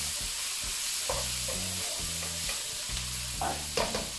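Pork liver pâté mixture browns in a pan, a constant bright sizzle with repeated scraping strokes of a utensil stirring it at close range, no talking.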